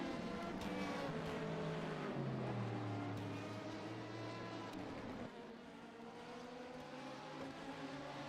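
A race car engine overruns in a racing video game during an endurance race at NOLA, a rough droning whine that wavers and drops in pitch, heard alone at moderate volume.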